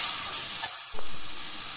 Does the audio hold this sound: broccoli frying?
yes